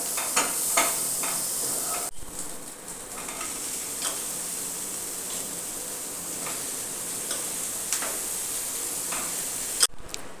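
Chopped ash gourd hits spiced masala frying in a pan and keeps up a steady close sizzle, dotted with light ticks and a couple of sharp clatters from stirring.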